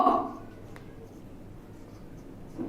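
A pen writing on paper, a faint, soft scratching that runs steadily and quietly, with a voice talking briefly at the start and again at the end.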